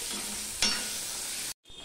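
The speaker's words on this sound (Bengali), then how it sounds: "বেগুনটা লাল লাল হয়ে ভাজা করে নিয়েছি" Brinjal pieces coated with turmeric fry steadily in a hot pan, giving an even, close sizzle with a brief louder burst partway through and a sharp cut to silence near the end.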